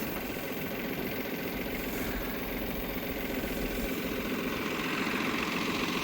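A tractor engine runs steadily while hauling hay in a field, a continuous mid-to-low drone with vibration, moderately loud and even throughout, with no talking.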